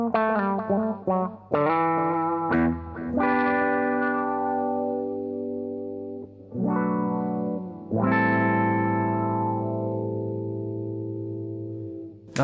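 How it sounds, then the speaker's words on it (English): Guitar played through an auto wah envelope filter pedal on a pedalboard, several plucked notes and sustained chords each opening with a sweeping filtered quack that decays into a long ringing tail, loud and alone. "And then we have the auto wah."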